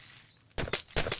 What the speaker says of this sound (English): The blue glass. Break it.